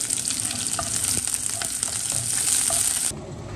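Onions and cumin seeds fry in hot oil in a home kitchen, a steady loud sizzle with occasional stirring scrapes, no talk.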